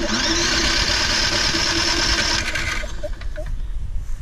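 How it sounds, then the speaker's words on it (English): A Toro Personal Pace Recycler lawn mower engine is turned over by an electric starter, a steady mechanical whirring and churning that loosens slightly toward the end. "I like to turn the engine over a few times to get the oil circulated"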